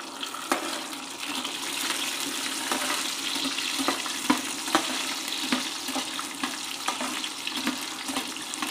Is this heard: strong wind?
no